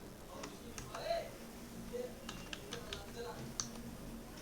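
Sparse, quiet key clicks from a computer keyboard as a command is typed into a Linux terminal, a few soft taps spread over several seconds against a low background hum.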